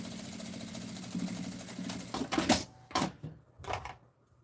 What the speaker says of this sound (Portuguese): Essa parte que eu acabei de costurar, o forro esticadinho